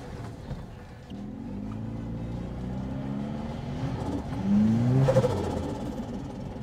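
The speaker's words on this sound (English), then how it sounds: "now there's a transmission whine" A turbocharged 2RZ Toyota pickup runs on a dyno, its worn transmission whining in rising tones over a steady engine drone. The whine swells louder toward the middle and then eases.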